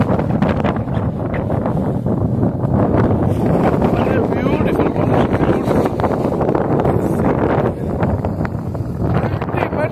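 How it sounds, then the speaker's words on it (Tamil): Strong wind buffets the microphone outdoors at the Sitalayyangiri hilltop temple in Chikmagalur, Karnataka, a loud steady roar lasting throughout while a person speaks briefly over it. "கிளைமேட், வேற மாதிரி காத்து."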